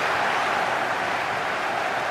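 A stadium crowd in an EA Sports football video game, a Manchester United versus Barcelona match, keeps up a steady, dense roar of cheering and applause with no break in level.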